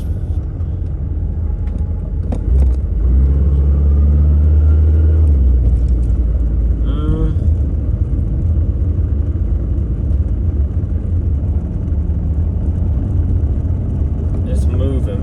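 A $300 Chevrolet Cavalier with a jerky gear is driven up a road. Its steady low engine and road rumble runs throughout, with voices talking over it.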